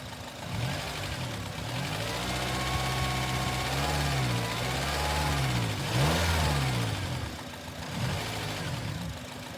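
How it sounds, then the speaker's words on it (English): A Honda engine with variable timing control revs with no load, rising and falling through several swells in pitch, close and steady, with no talk over it. "I'm going to give it some no load RPM just to see if I can get that."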